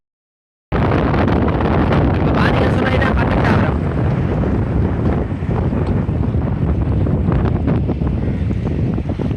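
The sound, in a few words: strong wind blowing on the coast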